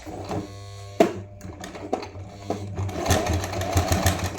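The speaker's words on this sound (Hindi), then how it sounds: "कच्ची सिलाई हमें देनी होती है।" Sewing machine stitching red blouse fabric, a steady motor whir with brief pauses and restarts, ending in a faster, louder run of stitching, close by.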